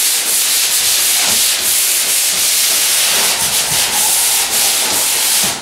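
Light sanding of a wall surface before skimming, a loud continuous close-up scratchy rubbing hiss with slight rhythmic surges as the sander sweeps.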